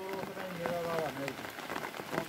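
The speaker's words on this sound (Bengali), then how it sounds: "বৃষ্টি পড়ছে।" Steady rain falls during work at a tubewell site where sand is being laid, a continuous wash of patter with a voice talking over it throughout.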